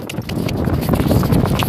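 A ridden horse's hooves clip-clopping steadily, loud and close, with a dense, rough texture of movement and no clear talking.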